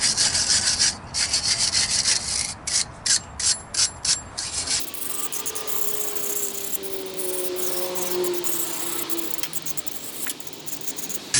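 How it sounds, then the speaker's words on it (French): A wire brush scrubs brake parts on a Megane 3 RS. It makes rhythmic bursts of rasping strokes at first, then a steady, continuous scraping with faint squeals, close and alone. "La brosse métallique, je vais en profiter pour nettoyer un petit peu."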